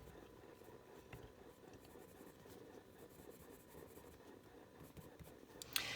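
Coloured pencils scratch and rub steadily on Inky Ivy colouring paper, a soft, close, continuous scratching texture with no talk.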